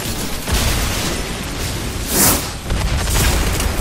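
A carbon furnace explodes in a film scene: a loud, sustained broadband roar of blast with a sharper burst near the middle, rumbling continuously throughout without speech.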